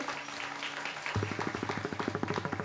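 Audience at a Marathi kirtan breaks into applause after a pakhawaj and tabla player is introduced, starting abruptly from a quieter, tonal background and continuing as steady, moderately loud clapping.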